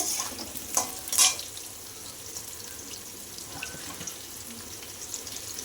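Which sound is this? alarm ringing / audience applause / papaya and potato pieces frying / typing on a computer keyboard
papaya and potato pieces frying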